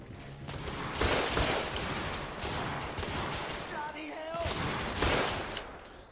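Gunfire in The Order: 1886, a video game, with several sharp shots and bursts rising over a dense, steady battle din, some of them close and loud, while someone talks over parts of it.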